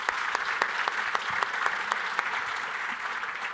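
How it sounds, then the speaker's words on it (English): Applause from a live show audience in a theater, many hands clapping at once in a dense continuous wash, with a few sharper individual claps standing out, fairly close and steady, no talking over it. "Round of applause."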